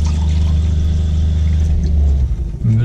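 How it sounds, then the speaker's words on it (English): Water poured into a pot for cooking rice at a truck camper's outdoor kitchen, a steady, loud, continuous pour that tapers off near the end, alone without talk. "and there's 2 cups of water."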